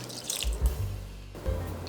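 Water poured into a pot of rice and bean sprouts for stovetop Korean rice, a splashing, trickling stream that shifts in tone as it fills, heard close and alone.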